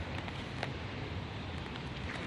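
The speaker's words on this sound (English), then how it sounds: "And it's starting to rain." Steady rain falls nearby as a continuous, even broadband hiss, pattering on surfaces outdoors at a bottle dump, with no speech over it.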